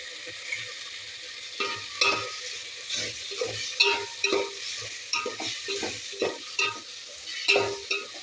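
Garam masala and coriander powder fry in oil for pudina pulao, soft sizzling under repeated rhythmic stirring strokes of a spoon against the pan, close and fairly quiet.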